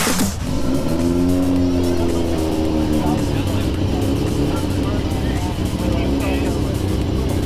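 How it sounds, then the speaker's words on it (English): A Mazda RX-7 rotary engine revs up loudly nearby, its pitch rising, then keeps a rough, buzzing drone; a voice is heard faintly beneath it. "that is the sound of a rotary engine"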